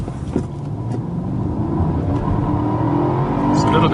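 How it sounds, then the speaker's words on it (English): A Mercedes S500 accelerating hard from a standstill during an acceleration test, its engine note rising steadily and loudly with a little wheel spin, heard from inside the car; no one speaks. "So we are now going to do the acceleration test"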